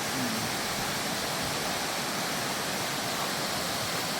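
Thoothur waterfall on a trekking route, pouring in a steady, loud, unbroken roar of rushing water that fills the whole scene with no pauses.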